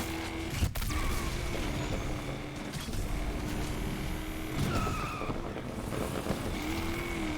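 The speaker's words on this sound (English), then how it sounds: "We're going to get a little micro drift to the left, micro drift to the right." A BMW M5 drifting in Need for Speed, its engine droning at a steady pitch that shifts up and down as it slides left and right, with a continuous wash of road and tire noise.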